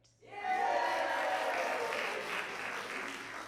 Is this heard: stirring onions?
no